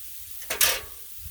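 Tri-tip steak sizzles on a Blackstone griddle in a short, close burst of hissing that swells and fades within about a second, with no talking.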